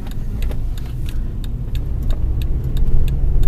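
A Skoda Octavia with its engine warning light blinking, driven at about 50 km/h through a village, gives a steady low engine drone and road rumble inside the cabin, with repeated light clicks and rattles over it.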